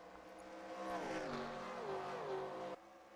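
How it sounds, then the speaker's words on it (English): Modified race car engines rev on the back straightaway of a Homestead oval, rising and falling in pitch as they accelerate off the corner, heard faintly from a distance before cutting off abruptly. "Hearing the engines rev down the back straightaway as they get back up to speed, throwing on the throttle as they come off the corner."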